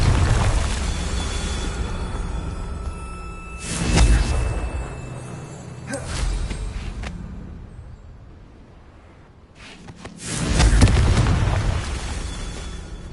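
Confringo blasting spell from Hogwarts Legacy erupting in booming fiery explosions, three heavy bursts spaced a few seconds apart over steady rumbling game ambience.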